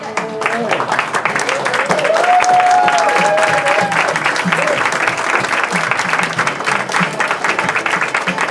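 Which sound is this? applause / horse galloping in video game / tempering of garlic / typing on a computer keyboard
applause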